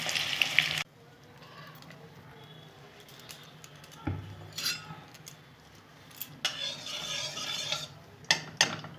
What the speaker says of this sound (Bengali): লাল লাল করে বাঁধাকপিগুলো সব ভেজে নেব।